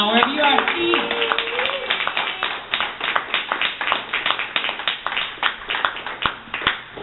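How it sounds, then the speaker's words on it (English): Audience applause at a poetry event in a lounge, a handful of people clapping in a loose, uneven rhythm that turns into sparse individual claps, with a voice heard briefly at the start. "I would like to send out some waves of applause to him for putting this amazing event together"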